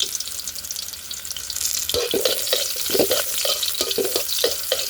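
Onions sautéing in a pan for a chicken breast stir-fry give a steady, close sizzle, broken by repeated scraping strokes of stirring in the second half.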